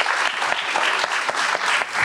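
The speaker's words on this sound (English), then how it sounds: "Please give her a round of applause." An audience at a Louisiana smart growth summit panel gives a round of applause, a dense, even clapping that continues steadily throughout at a loud level.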